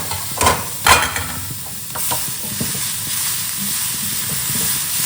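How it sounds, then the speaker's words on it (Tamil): Cabbage poriyal stirred and frying in a hot bronze pan, with two sharp scraping clatters of the spoon early on, then a steady hiss of sizzling throughout. "இந்த மாதிரி முட்டைக்கோஸ் பொரியல் மற்றும் பக்கத்துலேயே நின்று கிளறி விடணும்."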